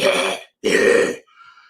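A voice imitates a growling sound: two rough, throaty bursts of about half a second each, close and fairly loud, with a short gap between them and a faint hiss trailing after.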